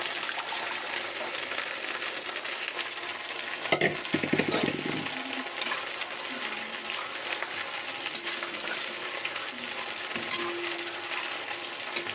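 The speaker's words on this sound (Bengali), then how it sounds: "এবার ফুটতে দিয়ে ডালটা কিন্তু আমার ফুট ধরে গেছে" Urad (biuli) dal with a little turmeric bubbling in a pot: a steady soft hiss and simmer, with a brief clatter partway through.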